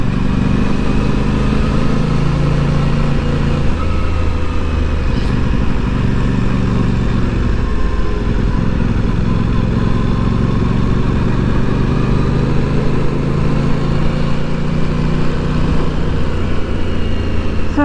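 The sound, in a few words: Aprilia Tuono 660 Factory motorcycle riding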